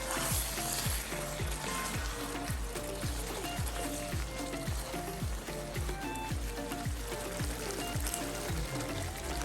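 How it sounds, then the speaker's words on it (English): Prawn curry with pineapple bubbling and sizzling in a hot pan, a continuous low simmering crackle with quick repeated stirring scrapes in a steady rhythm, fairly faint overall. "one more stir."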